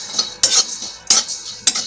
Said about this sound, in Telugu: ధనియాలు కొంచెం బ్రౌన్ కలర్ అయ్యేదాకా ఎంచాలి.